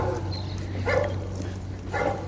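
A dog on a leash walk gives two short whimpering yelps about a second apart, moderately close, over a steady low rumble of background noise, with no talking.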